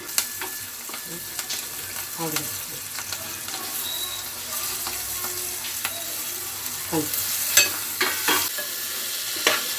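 Potato pieces fry with turmeric and curry leaves in a pan for a curry to go with puris, making a continuous sizzle broken by occasional stirring scrapes, with faint voices in the background.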